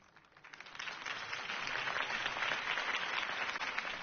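Applause from a video game crowd in Batman: The Telltale Series Episode 1 swells up from quiet and grows into sustained clapping, sounding slightly thin and distant.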